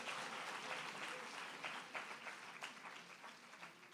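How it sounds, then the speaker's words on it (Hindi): A congregation claps during a Hindi Sunday worship service in church, a faint, continuous patter of many hands with a few sharper individual claps standing out near the end. "समझ में आ रहा तो तालियों को बजाकर प्रभु को जोरदार धन्यवाद चढ़ाइए"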